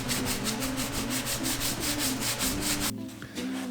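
High-fill primer on a car body being hand sanded with 320-grit paper, a close, steady rhythmic scrubbing of repeated back-and-forth strokes that stops near the end.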